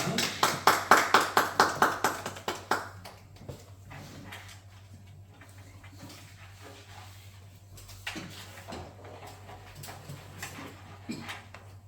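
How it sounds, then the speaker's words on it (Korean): A church congregation claps in a burst of applause for about three seconds, which then fades into quiet room noise and scattered faint sounds. "우리 하나님께 감사의 박수 드리겠습니다"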